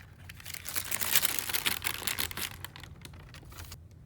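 Tissue paper crinkles and rustles as it is pulled from an Air Jordan 5 Oreo shoe box, close and busy in bursts that swell and then thin out toward the end, with no voices.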